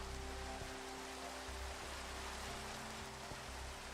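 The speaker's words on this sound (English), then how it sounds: "And it's raining." Rain falling in the video game Minecraft: a steady, even hiss of rainfall, continuous and moderately loud, with no voices over it.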